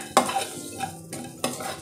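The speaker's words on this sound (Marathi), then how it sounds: "आपल्याला हे मंदाचेवरच सर्व भाजायचं आहे." Whole spices and poppy seeds dry-roasting in a pan on low heat for a Konkan garam masala amti, with close scraping stirs and a faint crackle, and no voices.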